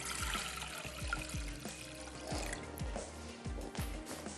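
Water is poured into a cooking pot before boiling potatoes in a home kitchen, a faint, uneven trickle and splashing with soft clinks of cookware, quiet and close.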